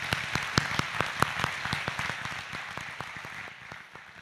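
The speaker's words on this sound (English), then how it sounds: "please, help me give the sponsors a round of applause for all their contributions for this event." An audience at a State of the City address applauds the event sponsors, a lively spread of many clapping hands with sharp individual claps that slowly thins and fades toward the end.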